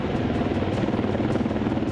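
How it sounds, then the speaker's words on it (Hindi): Apache AH-64E attack helicopter running steadily and close, its rotor giving a fast, even chop over a broad engine roar, with no voices. "यह है दुनिया का सबसे विध्वंसकारी हेलीकॉप्टर अपाचे AH-64E"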